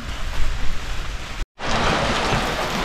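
Steady, dense hiss of heavy rain pouring down, cut by a brief moment of silence before the downpour resumes even louder.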